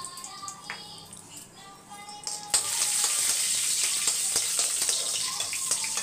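Cashews sizzle and fry in oil in a pan while sweet pongal is prepared; a quieter stretch gives way after about two and a half seconds to a steady, louder bright sizzle with small crackles.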